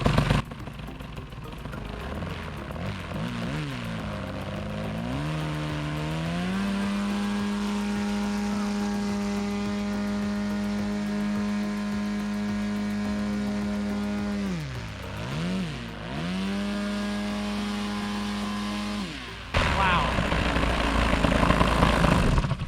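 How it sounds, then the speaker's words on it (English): A paramotor fitted with a new Zor 32x12 propeller runs close and loud, its engine droning steadily after revving up, briefly dipping and rising again, with no talk. "new Zor 32x12 propeller on here. We'll see what it sounds like."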